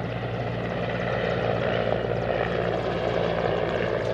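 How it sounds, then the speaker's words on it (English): A firefighting helicopter hovering at an Indian Air Force fire power demonstration, its rotor thumping and turbine whine forming a loud, steady, continuous roar throughout. "You can now see the second helicopter align itself to bring blaze further under control"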